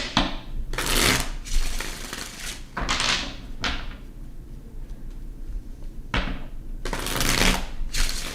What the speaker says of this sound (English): Let's do 3 more shuffles for Aquarius.